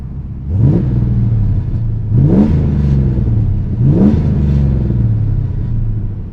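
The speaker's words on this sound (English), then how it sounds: "Go ahead and give you a couple revs." A nearby 1982 Corvette Crossfire Injection engine revs up three times in quick succession, each rising whine falling back to a rumbling idle between bursts.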